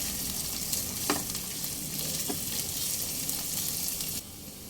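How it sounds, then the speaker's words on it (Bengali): Ginger, curry leaves, green chilies and chopped onion frying in a pan over medium flame, giving a steady close sizzle with a few light stirring clicks. "মিডিয়াম ফ্লেমে এক থেকে দেড় মিনিট একটু ভাজা হতে দেবো"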